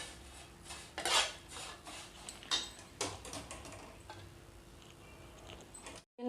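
A spoon stirs milk in a metal pot on a gas stove, giving scattered clinks and scrapes against the pot, with a few sharper taps among softer strokes.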